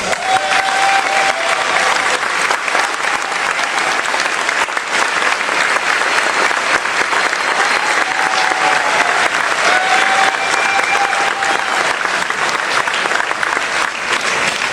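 Dense, steady clapping from a caucus audience at a St. Charles County Central Committee chairman election, loud and continuous throughout with faint voices mixed in.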